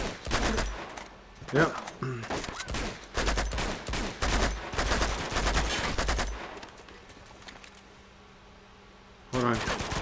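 A fast-firing gun in Uncharted 2 rattles out rapid, loud bursts of shots for about six seconds, goes quiet, then fires again briefly at the end, with a short spoken word mixed in.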